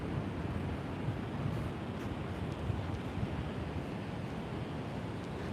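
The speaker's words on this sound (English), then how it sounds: "We are at the ocean. Check this out. You all can already see the waves." Ocean surf rolls in along a San Diego beach, a continuous broad wash of breaking waves mixed with gusty wind buffeting the microphone, steady and fairly distant.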